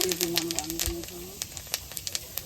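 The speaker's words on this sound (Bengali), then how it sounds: "সর্ষের তেলের ওপর একটু জিরে আর রাঁধুনি ফোড়ন দিল" Cumin and radhuni seeds temper in hot mustard oil, giving a close sizzle with sharp, scattered pops and crackles while a voice talks briefly at the start.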